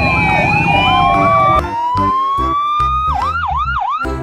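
A toy police motorcycle siren wails loudly up close, its electronic tone shifting to a fast warbling pattern with beeping pulses.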